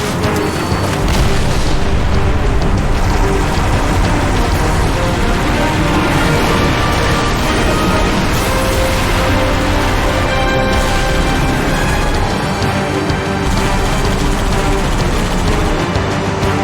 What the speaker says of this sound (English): Detonating in 3, 2...